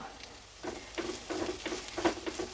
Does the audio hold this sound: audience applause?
no